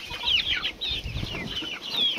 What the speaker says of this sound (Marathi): त्याच्यात एक मोठाला कोंबडा आणि 2-3 कोंबडी आहे असीलचे।